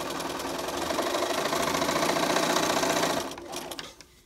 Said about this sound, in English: And then I'm just going to sew along there.